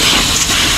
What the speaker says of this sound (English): Air comb from AGCO Parts.